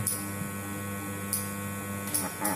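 Wahl Super Taper hair clipper motor running smoothly after servicing, a steady close electric hum with a few brief brighter bursts, no talking.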